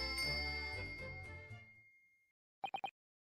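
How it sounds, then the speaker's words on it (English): In the Dai Gyakuten Saiban video game, a lingering musical tone fades out, then after a short silence a service bell dings three times in quick succession, bright and close. "It's a service bell."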